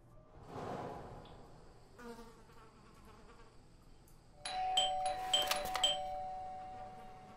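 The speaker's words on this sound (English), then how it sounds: "I thought I should use the doorbell so I wouldn't startle you." A doorbell rings in the Blues and Bullets video game, a bright multi-tone chime sounding after a few soft thuds and rustles, fairly close and clear with no talking.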